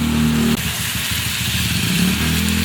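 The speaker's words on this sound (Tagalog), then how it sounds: "Grabe naman yung motor na yun." A motorcycle revs loudly as it passes near a home kitchen where pork baby back ribs are cooking, its engine roar and rev rising over a constant background sizzle with no talk.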